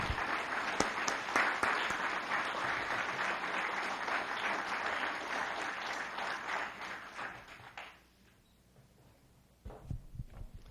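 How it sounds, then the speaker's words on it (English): Audience applause at a State of the County 2014 address, a sustained, fairly close roar of clapping from a crowd that cuts off abruptly, followed by a few scattered claps and small noises. "I was hoping you'd applaud a little bit longer."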